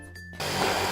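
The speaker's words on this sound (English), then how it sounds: "So we're just going to screw this first one" Power drill driving a screw into the first steel cladding sheet of a shed wall, starting after a short quiet pause and then whirring loudly and steadily with no voices.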